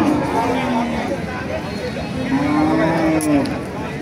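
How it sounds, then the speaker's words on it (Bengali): A cow with her calf moos at a cattle market in Thakurgaon, with two long, drawn-out lowing calls standing out over a constant murmur of nearby crowd chatter. "গাবি গরুর বাচ্চার ভিডিও আপনাদের দিচ্ছি"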